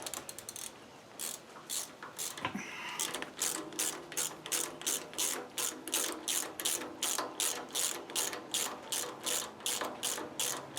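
Ratchet wrench tightening the water pump bolts on a 1967 Ford Mustang 347 stroker engine, a steady run of rapid, close clicking strokes in repeated bursts with no talk.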